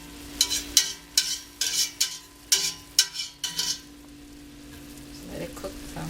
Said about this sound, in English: Now onions are starting to cook.